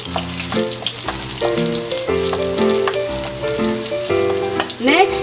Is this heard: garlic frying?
yes